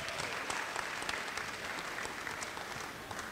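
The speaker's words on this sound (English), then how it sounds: "So round of applause for that" Steady applause from an audience at a university basketball tip-off reception in an arena, dense clapping holding at an even level throughout without talk.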